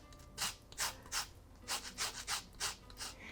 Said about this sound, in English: So I'll just add in some orange zest.